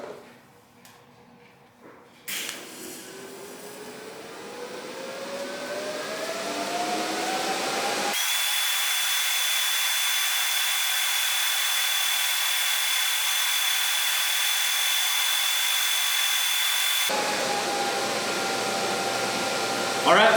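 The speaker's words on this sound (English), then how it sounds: "scratch start TIG, we're running about 55 amps" Scratch-start TIG welding arc at about 55 amps, building a steel welding cart: a steady, loud buzzing hiss with a constant whine holds for about nine seconds, preceded by rising machine noise and followed by a quieter tail.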